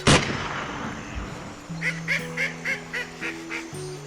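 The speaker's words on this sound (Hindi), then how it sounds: "तालाब के पास ही एक झुंड था। वाइल्ड डक्स वहाँ तैर रहे थे।" Wild ducks on a pond give a run of regular honking quacks, about eight calls in a steady rhythm at moderate distance, following a sharp loud crack at the start.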